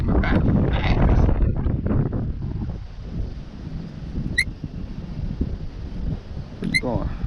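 Strong wind buffeting the microphone near a DJI Phantom 3 Standard drone flown manually outdoors in high winds, loud rumbling gusts that ease after a few seconds, with someone talking throughout.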